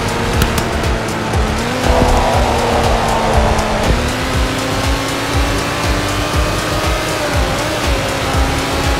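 A Lamborghini driven in the Roblox video game, with a steady engine drone that rises in pitch over time, accompanied by continuous tyre and road noise and a rougher burst partway through; no voices.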